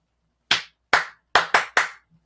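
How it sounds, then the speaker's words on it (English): Five crisp, loud hand claps ring out alone in a quiet podcast room: two spaced beats followed by a quick run of three, a showy Mick Jagger-style clap. "So, Kate, you're getting a Mick Jagger clap."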